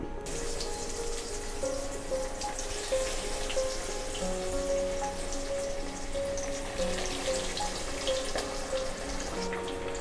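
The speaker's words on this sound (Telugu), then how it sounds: "ఇప్పుడు ఆయిల్లో వేసి ఫ్రై చేసుకుందాం" Brinjal and chilli bajji fritters fry in hot oil with a steady, dense sizzle and crackle that runs the whole time, close and fairly loud.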